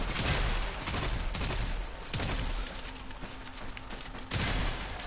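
Gunfire from the Warframe video game, a burst of game shots with a sharp loud onset that carries on as dense, continuous crackling noise, with further hits around the middle and the end.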